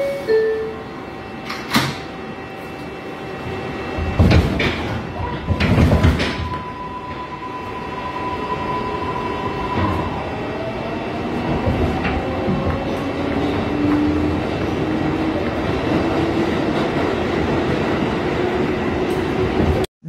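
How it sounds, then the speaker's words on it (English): Aboard a Woodlawn-bound 6 train on the New York subway, the doors thud shut with sharp clunks, then the car rumbles and squeals along the track in a long, steady roar, with no voices. "This is a Woodlawn bound 6th train."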